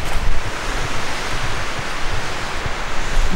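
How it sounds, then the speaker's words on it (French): Strong wind buffets an open hilltop, a dense roaring rush that pounds the microphone continuously with gusty swells and no other sounds. "Il y a tellement de vent."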